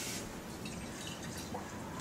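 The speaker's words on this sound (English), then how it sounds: "put a little water in the can." Water runs into an empty sofrito can to rinse it while cooking Dominican pollo guisado, making a brief hissing, splashing trickle that is soft and close.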